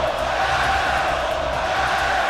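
A large video game wrestling arena crowd in WWE 2K roars and cheers continuously, a dense wash of voices filling a big arena at steady volume.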